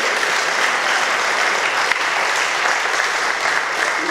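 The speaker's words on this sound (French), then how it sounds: "vous pouvez les applaudir." Sustained clapping from a church congregation at a First Communion service fills the space, a thick and even roar of many hands that barely varies from start to finish.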